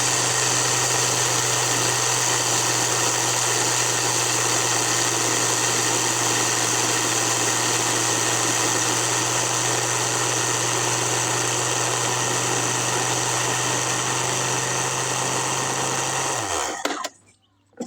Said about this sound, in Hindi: दोबारा डाल के इसमें ग्राइंड कर लेंगे।